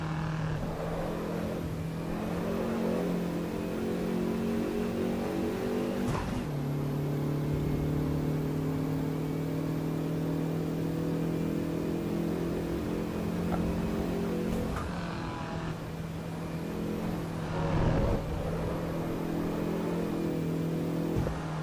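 Car engine in the sim racing game Assetto Corsa EVO, a sustained loud hum that holds steady pitch with brief shifts and dips between gears, continuous and close with no talking.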